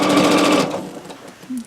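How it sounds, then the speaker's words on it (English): A sewing machine stitches down pieces of minky fabric on a crazy quilt, a dense rapid buzz for most of a second that then stops, followed by quieter handling noise and a short low hum. "I'll just sew that down, and then we'll cover it up with another piece"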